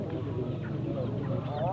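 A chukar partridge at a crowded livestock and bird market gives short clucking calls with rising notes. Market voices and chatter run beneath it.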